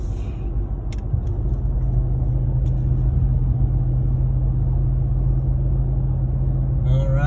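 A Ram TRX pickup truck rumbles steadily onto a highway, its engine drone and road noise loud and continuous from inside the cab, with a few faint clicks over the deep, constant hum.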